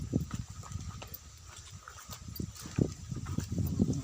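A water buffalo (carabao) working on a coconut farm, hauling a sled loaded with coconuts, with dull irregular hoof thuds and shuffling steps close by over a faint outdoor background.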